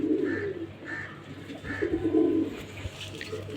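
Pigeon coos, low and soft, repeat several times amid the muffled sounds of a loft or handling, with a faint high chirp near the end.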